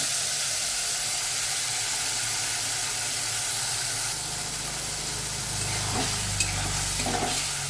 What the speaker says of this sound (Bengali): কড়া গরম হয়ে গেছে, এবার আমি মিশ্রণটি ঢেলে দিলাম